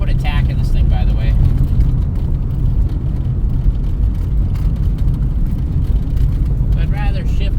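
A 1984 Dodge Mini RAM, parked for 25 years and now driven in third gear, gives a steady loud engine and road drone heard from inside the cab, with someone speaking briefly at the start and end.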